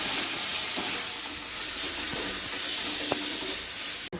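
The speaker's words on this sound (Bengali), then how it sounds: "এবারে এটা ভালো করে কষে নেবো।" Ginger garlic paste, chilli, coriander, turmeric, cumin powder and salt frying with onions for a chicken do pyaza, giving a steady close sizzle and hiss with faint stirring scrapes, ending in a brief sharp knock.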